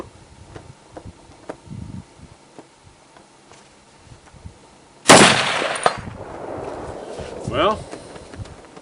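A Springfield M1A M14 rifle fitted with a muzzle brake fires one loud, sharp shot midway, following quieter scattered clicks and handling noises, with a rumbling echo trailing after the blast.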